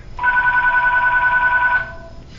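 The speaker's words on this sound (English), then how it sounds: "The phone began ringing." A telephone bell rings in one steady continuous burst of about a second and a half, then stops, leaving a quiet outdoor campsite in autumn.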